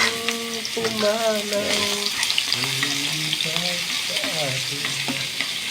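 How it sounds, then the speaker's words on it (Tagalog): Garlic and onion frying in hot olive oil for chicken adobo with broccoli, a steady sizzle running throughout beneath a voice singing and talking over it. "mainit na ang olive oil. Ilagyan na natin ng bawang sibuyas"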